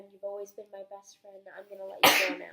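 A person speaks a few sentences, then lets out a single loud, sharp sneeze right after the talking stops.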